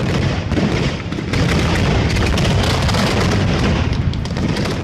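Dense, continuous booming and crackling fills the air, a steady barrage of firework shells launching from mortar tubes and bursting without pause, loud and fairly close.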